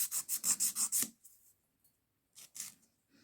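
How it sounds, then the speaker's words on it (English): Hand file rasping across acrylic nails, a quick run of about six rhythmic strokes, then a pause and two more short passes, close and clear. "when you're working with the hand file, that's where the real shape comes in"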